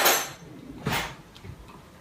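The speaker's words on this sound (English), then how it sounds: "Another spoon." A spoon clinks against dishes while a raspberry schisandra vinaigrette is being made: two or three bright, light taps spaced apart, close and fairly quiet, with no voice over them.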